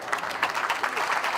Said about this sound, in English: The oohs, ahs, and applause for a Lego model of the new Cardinal Glennon Children's Hospital.